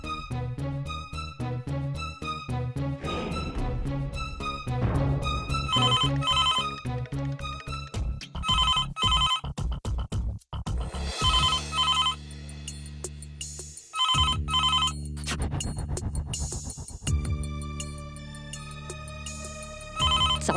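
A telephone rings on and on with no answer, its repeated electronic ringtone pattern loud and close throughout, with no talk over it.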